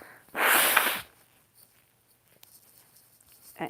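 A loud, forceful nose blow lasting under a second, followed by quiet, and then a short sniff near the end.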